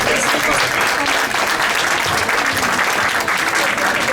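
Sustained audience applause at the Lisbon book fair, a dense steady wash of many hands clapping throughout at even loudness, with a faint murmur of voices mixed in.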